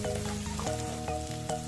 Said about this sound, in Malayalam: ഒരു കപ്പ് ചുവന്നുള്ളി ഇട്ടാൽ നമുക്ക് ഇതിനകത്ത് നല്ലപോലെ ഒന്ന് മൂപ്പിച്ചെടുക്കണം.